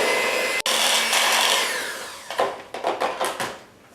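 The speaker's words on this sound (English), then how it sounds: "continue mixing with our hand mixer" An electric hand mixer whirs steadily through pumpkin pie filling, then slows into a series of short, uneven bursts as it is switched on and off.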